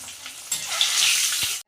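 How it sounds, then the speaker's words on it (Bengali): Eggs fry in hot mustard oil with a close, bright sizzle that swells after a brief start, crackles for about a second and cuts off abruptly. "এবার ডিমগুলোকে ভালো করে আমি ভেজে নেব।"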